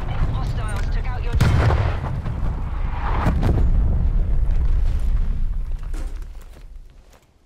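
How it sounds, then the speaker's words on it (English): Artillery strike explosions in Call of Duty: Black Ops Cold War, a heavy sharp blast near the start followed by continuous rumbling booms and debris that fade out toward the end. "Artillery targeting detected. Net call. Incoming artillery."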